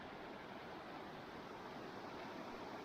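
A creek runs on a farm in late winter after high water, heard as a steady, faint broadband rush of flowing water with no voices.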